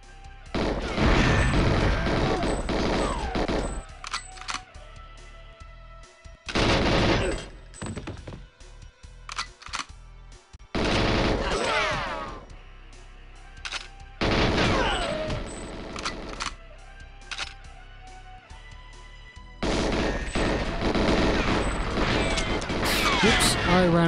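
Gunfire in the video game GoldenEye 007 comes in several loud bursts of rapid shots separated by brief pauses, with a person talking over the game between volleys.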